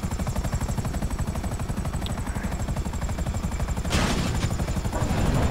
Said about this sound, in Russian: Казённый вертолёт.